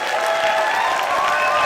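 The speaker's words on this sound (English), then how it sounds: "A big round of applause for the Megha." An audience at a Triratna Buddhist gathering gives a steady, dense round of applause, loud and close, filling the whole moment without talk.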